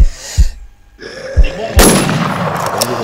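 Several sharp gunshots ring out in the Infestation Survivor Stories shooter game, with loud single cracks early on and a bigger blast that leaves a dense, lingering rumble and echo.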